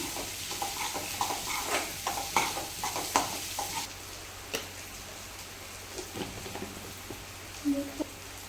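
Chillies being sautéed in a pan give off a soft, steady sizzle with irregular stirring clicks and scrapes, louder at first and thinning to sparse taps later on.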